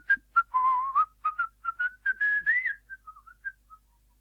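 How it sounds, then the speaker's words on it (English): Someone whistles a merry tune, a string of short bright notes with a few held and sliding pitches, close and clear with no talk, then trailing off into softer scattered notes. "whistling a merry tune"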